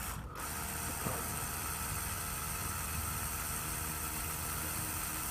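A tattoo machine fitted with a single needle runs steadily, a continuous mechanical buzz and rattle at even level throughout, close by, with no talk.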